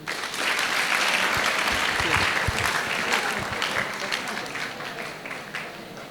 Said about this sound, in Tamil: உன் பேர்ல கார்த்திகேயனுக்கு ஒரு கைத்தட்டல்.